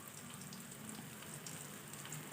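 Cumin seeds and turmeric powder sizzle steadily in hot oil for a soy chunk gravy, a soft continuous crackle close by with no talking.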